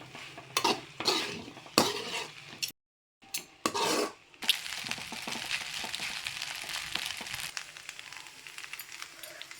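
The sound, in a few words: stirring egg pasta into masala in a pan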